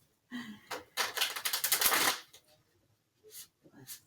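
Large tarot cards being shuffled by hand in a close, loud burst of riffling lasting about a second, followed by a few softer card flicks and handling sounds, with no talking.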